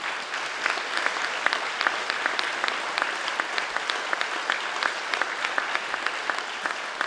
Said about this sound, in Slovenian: dajte prosim zaploskati vsem delavcem doma starejših